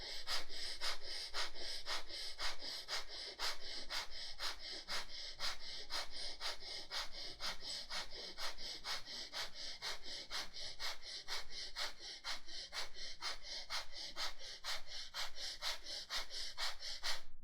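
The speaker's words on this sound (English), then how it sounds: "start breathing 25 breaths" Deep, rhythmic yoga breathing done with the chin resting on the chest, a long run of forceful, evenly spaced breaths, close and breathy, with no voices.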